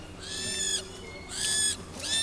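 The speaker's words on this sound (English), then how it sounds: "The brainiest owl I know." A barn owl at the Hawk Conservancy Trust in Andover gives three loud, raspy, drawn-out screeches close by, separated by short pauses.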